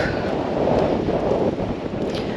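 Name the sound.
wind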